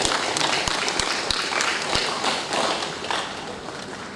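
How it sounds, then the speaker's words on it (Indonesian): Applause fills a hall at a regional government anniversary ceremony in Banggai, Sulawesi, a dense, lively clatter of many hands with a few sharper claps, gradually thinning toward the end. "Tepuk tangan dulu."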